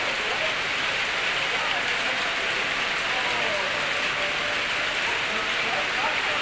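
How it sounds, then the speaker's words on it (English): Heavy rain pours down steadily on a hot tropical night, a dense, even hiss of drops striking surfaces that stays loud and constant throughout, with no talk over it. "But it's a huge welcome. The rain. It's been hot lately."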